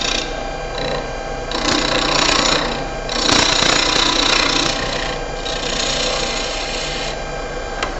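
A wood lathe cuts the final pass on a small turned birdhouse ornament, a steady machine drone with rising and falling bursts of tool-on-wood scraping over about eight seconds, close and continuous with no talk.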